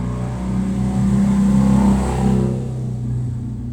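A motorcycle engine revs as it passes, a loud low droning roar that swells toward the middle and then fades as it moves away.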